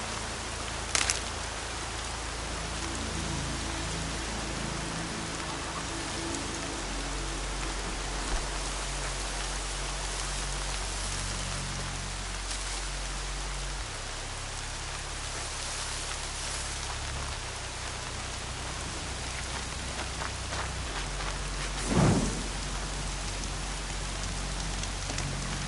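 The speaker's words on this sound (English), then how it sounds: "Storm's been in the air for a while." Steady rain falls during a storm, a continuous close hiss of drops on surfaces lasting the whole stretch, with a couple of sharper knocks and a low rumble underneath.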